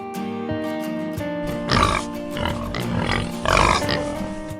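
Several pigs grunt and oink close by, with a couple of louder, harsher squealing bursts.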